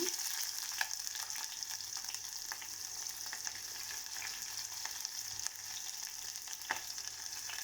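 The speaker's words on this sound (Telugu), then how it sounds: "ఆవాలు వేసాను, వేగుతున్నాయి. ఒకటాని ఆనియన్ వేసాను." Mustard seeds and onion frying in oil in a pan, a steady close hiss of sizzling with faint scattered crackles and pops throughout.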